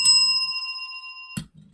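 A bicycle bell rings once, bright and sustained, its metallic tone lingering for over a second before a faint second tap cuts in near the end.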